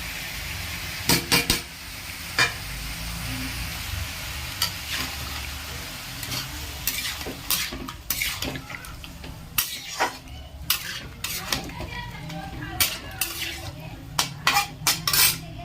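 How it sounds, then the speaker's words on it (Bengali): Chicken frying in a pot as ground masala paste is stirred in, with loud repeated metal spoon clanks and scrapes against the pot over a constant sizzle, growing busier toward the end. "ভালো করে মিশিয়ে নিয়েছি মশলাটার সাথে"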